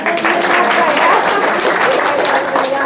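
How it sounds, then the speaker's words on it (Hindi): Dense, steady audience clapping fills a lecture-hall setting, with a voice talking over the applause throughout. "जब काम चलेगा ताली बजाओ इनकी।"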